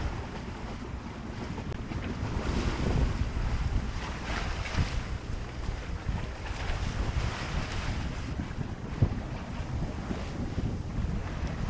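A cruising sailboat motors along an island shore in the Marquesas without its sails up. Steady engine and hull wash blend with heavy wind buffeting on the microphone and the sound of the sea, with no voices.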